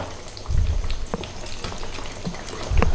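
Beef chops sizzling in a pan, a soft crackling fry with occasional louder spits and pops, close and alone without talk.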